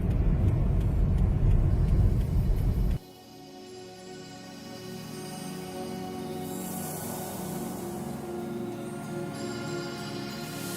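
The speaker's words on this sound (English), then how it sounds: "This truck dancing on ice is the strangest thing I've ever seen." A truck slides across ice, first as a loud, deep rumble for about three seconds, then a sudden drop to a quieter, steady tonal hum that lasts to the end.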